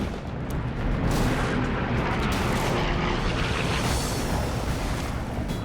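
Dense, continuous roaring barrage from the USS Laffy's 5-inch radar-directed anti-aircraft guns during a WWII kamikaze attack, loud booms blurring into an unbroken wall of sound.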